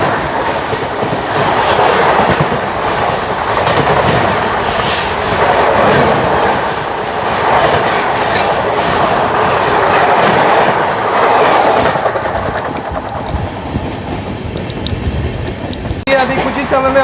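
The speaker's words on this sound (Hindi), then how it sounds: "सामने से आ रही हीराकुंड एक्सप्रेस अमृतसर" The Hirakud Express passing alongside on the opposite track, heard from aboard a moving train: a loud continuous rumble of wheels and carriages with rhythmic clatter, then a sudden drop as the passing train clears.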